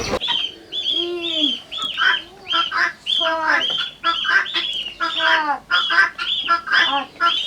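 Laying ducks on a duck farm quack in a dense, overlapping chorus, with loud, close calls that repeat in quick bursts throughout.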